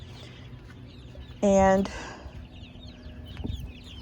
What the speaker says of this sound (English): the ducks and those few chickens are back in here